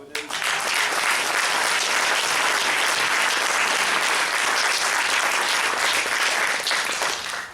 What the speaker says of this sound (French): je crois que là aussi on peut t'applaudir